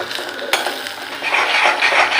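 A spoon scrapes and stirs spices, coriander-cumin powder and salt, in a pan, with a sharp clink early on and soft sizzling under the steady scraping, close up.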